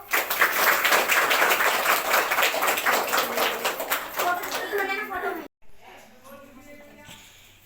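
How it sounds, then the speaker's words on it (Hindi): A small audience at an NGO gathering claps loudly and steadily for about four seconds, then the clapping tapers off and breaks, leaving quieter voices. "ताली बजाओ।"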